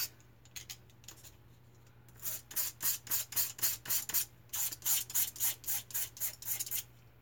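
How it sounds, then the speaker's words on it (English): Foam-cutting blades are sharpened on P500 sandpaper with a quick series of rhythmic, close scraping strokes, about a dozen in a row, after a few quieter scratches. "I just kind of sharpen them this way"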